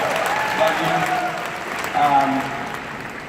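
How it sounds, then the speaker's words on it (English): An audience at a company conference event claps steadily, a moderate, even wash of applause with a slight swell near the end, while a voice speaks over it. "let's give her a round of applause for sure"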